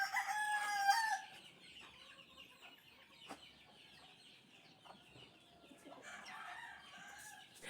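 A brood hen and her chicks are heard: one rooster-like call rises loud near the start, then softer scattered clucks and peeps continue close by, with a brief burst of higher calls toward the end.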